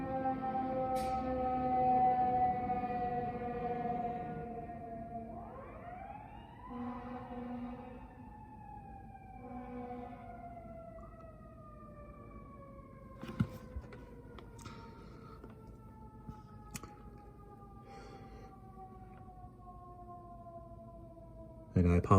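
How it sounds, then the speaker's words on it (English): A fire engine siren winds past a recording studio beside a fire station, sweeping slowly downward in long wailing tones that hold for most of the stretch, with a few sharp clicks near the end. "This is probably the longest siren we've had in a video in a long time."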